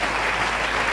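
A church congregation applauds during a French-language sermon, the clapping dense, even and sustained, filling the space loudly without pause.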